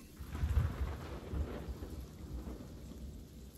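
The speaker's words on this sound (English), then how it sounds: "Oh, look at that thunder and lightning." Thunder and rain in the pirate video game Sea of Thieves, a deep rolling rumble swelling early then easing off over a constant soft hiss of rainfall, without voices.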